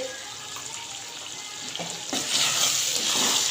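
A spoon stirs aloo keema, minced meat and potatoes, with ground garam masala in a hot pan, giving a continuous close sizzle with scraping stir sounds that grow louder partway through.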